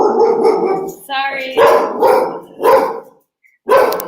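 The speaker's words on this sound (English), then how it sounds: "That's just my dog." A dog barks several times in quick bursts, close and loud, with a brief spoken word mixed in.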